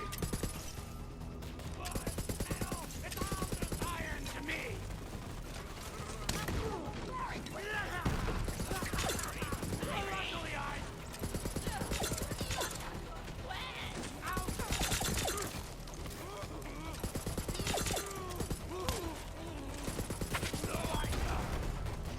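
Borderlands 3 gunfire: rapid, repeated bursts of automatic shots crackle through the whole stretch, with mechanical clicks and game voices mixed in, loud and continuous.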